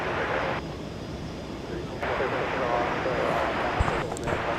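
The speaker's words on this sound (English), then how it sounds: "Looks like that was flight 1797 to Las Vegas, 737-800." A Boeing 737-800 airliner takes off at DFW Airport at night, a broad, steady engine roar at moderate distance, with a person talking over it.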